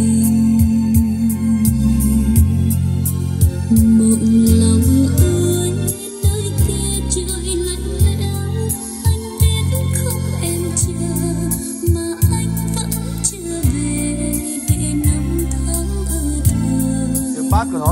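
Music plays through a pair of AR 401 loudspeakers, loud and continuous with heavy, pulsing bass lines and a full melodic top, no voices over it.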